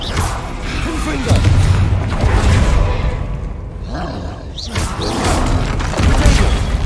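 Booming, roaring spell blasts and whooshes in the Hogwarts Legacy video game, from a Confringo explosive spell, loud and continuous with rumbling impacts throughout a busy fight, and a voice shouting over the noise.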